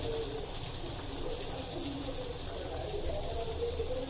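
Hot water poured into a pot of Agri-style fish curry, a steady, close gushing splash that runs evenly throughout without voices.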